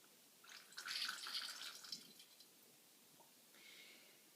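Wine poured through a Curadori acrylic aerator into a glass gives a soft, quiet liquid rush of about a second and a half, then a faint trickle tapering off, with no talk.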